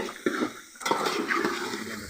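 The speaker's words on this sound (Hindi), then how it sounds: "ये डाल रही हूँ मैं, प्याज डाल रही हूँ।" Onions go into a pot for biryani: a couple of quick clattering thumps, then a soft wet hiss and scraping, close and moderately loud.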